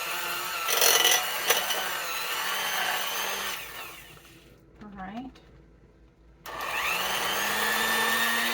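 An electric blender running while soap is rebatched, a loud steady whir that stops for a few seconds, leaving a quiet gap with a brief voice, then starts up again.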